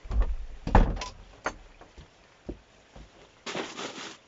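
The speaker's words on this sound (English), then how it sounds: "door shut." A mountain hut door being shut, with a few knocks and bumps followed by a firmer thud and a brief scraping rustle at the end, fairly close and quiet.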